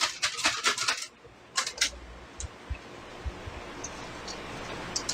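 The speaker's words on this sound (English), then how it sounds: "that sound is him shaking treats to get Mouse's attention?" A bag of dog treats shaken in a room, a quick run of crisp rattling bursts, a pause, two more shakes, then faint scattered clicks.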